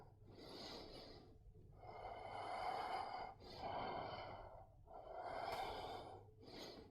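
Slow, rhythmic breathing during a Bowspring exercise routine: long, audible exhales and inhales alternating in a steady cycle, close and clear, with no talking.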